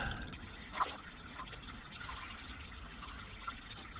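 Engine oil drains from a Lexus ES300h into a catch container as a steady, faint trickle with a few soft drips, heard alone at low level.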